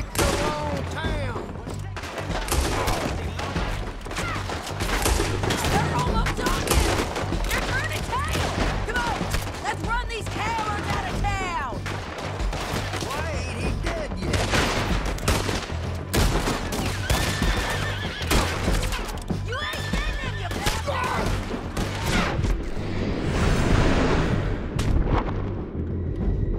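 Gunfire in Red Dead Redemption 2 during a town shootout. Dense volleys of rifle and pistol shots run without a break alongside whinnying horses, shouting and game music.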